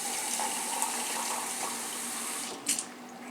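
Water pours into a crockpot holding a Mississippi pot roast, a close, steady splashing stream that runs evenly and then ends in a short louder splash.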